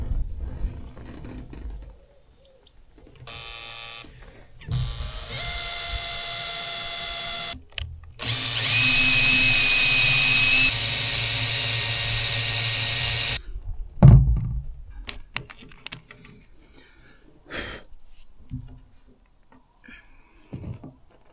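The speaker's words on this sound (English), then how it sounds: "Next thing I need to do is clamp the wood underneath, drill these, screw it all down." A power drill bores holes through clamped wood in short bursts, whining and stopping, then a longer sustained run of loud drilling before quieter handling noises and pauses.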